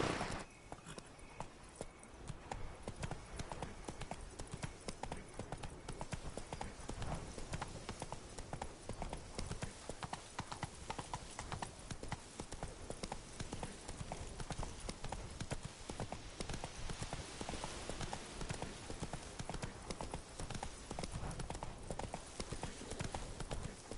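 Roach the horse trots in The Witcher 3 with a continuous, rhythmic clip-clop of hooves that keeps a steady pace at moderate, even loudness throughout.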